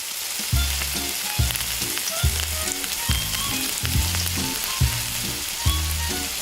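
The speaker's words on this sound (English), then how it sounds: "It remains to wait a little until they are completely fried." Tiny pieces of fish frying in oil for a miniature tandoori fish curry, a continuous bubbling sizzle broken by regular low knocking taps, close and fairly loud, with no talking.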